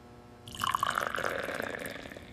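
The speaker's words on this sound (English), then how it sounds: "I make coffee." Liquid pours while coffee is being made in a kitchen, starting abruptly after a brief quiet moment and continuing as a close, gurgling stream that gradually softens.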